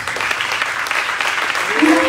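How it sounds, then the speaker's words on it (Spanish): A church congregation at an evangelistic service gives a brief burst of continuous clapping, close and fairly loud, with a voice rising over it at the end. "un aplauso para el Padre."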